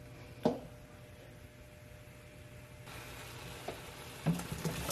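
Vegetables and meat sauté in a pot with a faint, steady sizzle, broken by a few soft clinks and scrapes of stirring.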